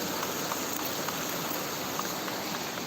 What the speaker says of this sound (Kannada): ಈಗಲೂ ಕೂಡ ಮಳೆಯಲ್ಲೇ ಸಿಕ್ಕಾಪಟ್ಟೆ ಮಳೆ ಇದೆ